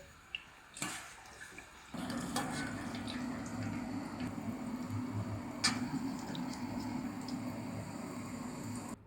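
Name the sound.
eggplant slices frying in hot seed oil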